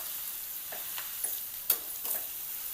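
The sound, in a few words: stir-frying amaranth greens with dried chilli in a pan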